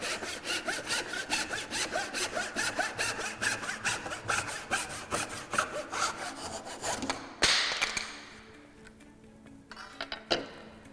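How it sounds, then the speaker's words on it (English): A hand saw cuts through wood in steady rhythmic rasping strokes, close and clear, ending with a scraping break-through and a few light knocks and scuffs. "I often rock the blade back and forth so that as the saw goes down"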